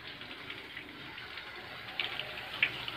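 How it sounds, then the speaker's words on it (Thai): A water spray rinses the hot coil fins of a Mitsubishi Heavy Duty air conditioner, a steady close hiss of spraying water with small splashy spikes toward the end and no talking. "มาฉีดด้านหลังอีกรอบนึงนะครับ"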